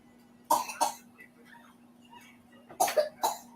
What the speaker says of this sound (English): You just start coughing like that all of a sudden.